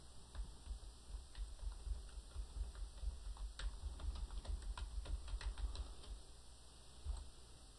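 Faint, close computer keyboard typing in WordPad sets off an uneven run of light key taps over a steady electronic hum, with no voices.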